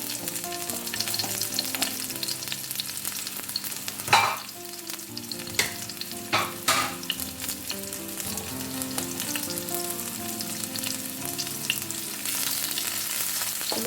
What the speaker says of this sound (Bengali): এখন ডাল বাগার দেওয়ার জন্য আমি রসুন কুচি আগে দিয়ে দেবো এক টেবিল চামচ পরিমাণ রসুন কুচি দিয়ে দিলাম